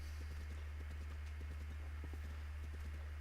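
A horse's hooves clip-clop at a steady walking rhythm in The Legend of Zelda: Breath of the Wild, faint beats over a constant low hum, with no voices.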